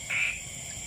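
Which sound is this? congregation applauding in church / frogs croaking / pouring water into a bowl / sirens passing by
frogs croaking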